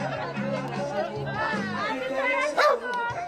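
A pet dog gives a short yip or bark near the end, brief and close, heard over background chatter and ambient noise.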